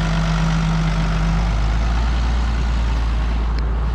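A tractor engine idles steadily during a hay harvest in a Polish field, a constant low rumble that stays close and even for the whole stretch with no talking.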